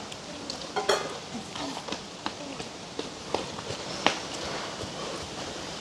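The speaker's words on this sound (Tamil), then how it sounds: "அப்படியே நல்ல வடிவாக கலந்து விடுவோம்" A village curry simmers in a pot as thick first-press coconut milk is stirred in, with soft sloshing and scattered light clinks of the spoon against the pot under a faint background hiss.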